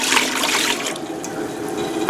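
Cider vinegar poured into a cooking pot for green tomato relish, giving a steady liquid splash that tapers to a lighter trickle, close and with no talk.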